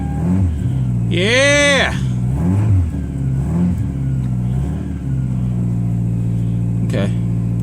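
A cold 2002 Toyota Solara engine catching and revving after a jump start, with a loud, steady mid-pitched idle running throughout and a person shouting and talking over it.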